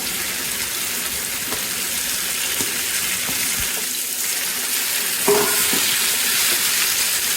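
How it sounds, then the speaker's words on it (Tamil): Mutton pieces for a mutton curry frying in a pan, a steady soft sizzle with occasional light stirring clinks throughout, no voices. "மட்டன்லேருந்து வர தண்ணியிலேயே நல்லா வதங்கட்டும்"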